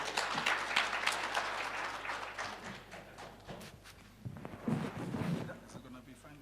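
An audience at a board inauguration event applauds as the CEO takes the stage. Dense clapping fades and swells, with a fresh surge of claps near the end and voices mixed underneath.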